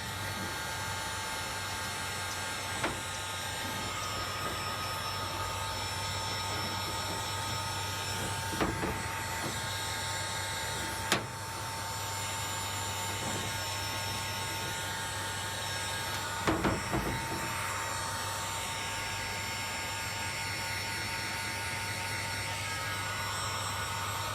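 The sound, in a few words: heat gun melting solder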